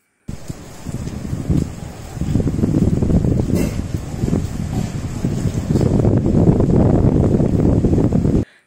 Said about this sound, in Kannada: ಜೋರಾದ ಗಾಳಿ ಶಬ್ದ, ಮಳೆ ಬೀಳೋ ಶಬ್ದ ಎಲ್ಲ ಕೇಳಿಸ್ಕೊಂಡ್ರಾ?